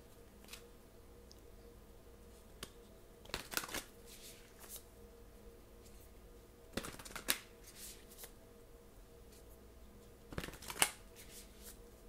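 A deck of tarot cards being shuffled, three separate riffling bursts spaced a few seconds apart, soft and close, with quiet room tone between.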